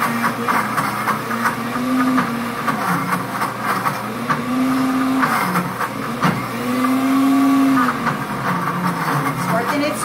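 A Pampered Chef blender churns peanut butter, its motor humming steadily with a rising, whirring pitch that swells and dips in repeated waves as the thick mixture works around the jar, loud and close throughout.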